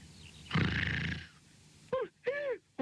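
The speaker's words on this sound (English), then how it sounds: "It's a lion. I heard it growl." Lion growl in a children's story, one brief rough roar followed by a few short rising-falling vocal grunts, fairly faint and alone.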